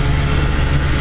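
A 1956 Johnson Javelin 30 HP outboard motor on a 14-foot Viking fiberglass runabout drones steadily and loudly for a moment, with a low, even engine rumble.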